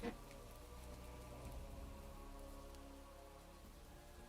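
Soft rain patters steadily as background ambience for a tabletop role-playing session, a faint continuous wash with a low tonal hum beneath, after a brief bump at the start, and no voices.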